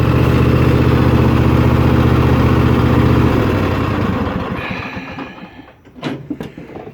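A 2020 Craftsman T240 lawn tractor engine runs loud and steady up close, then cuts out and winds down to quiet, leaving a few clicks and rattles at the end.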